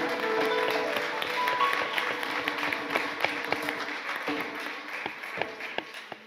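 A church congregation claps and cheers in acclamation during a worship service, a dense wash of applause with scattered sharper claps that thins gradually toward the end.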